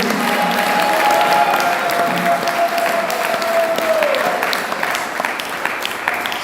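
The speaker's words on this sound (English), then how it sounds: "Let's give him our panel a round of applause." A round of audience applause for a panel of sannyasis at a devotional festival, steady dense clapping that tapers off toward the end. A sustained tone carries over the first part.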